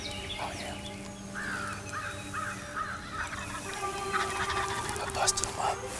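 Wild turkeys gobble and cluck as they approach decoys on a Tennessee hunt, with a short series of calls close by over outdoor background noise.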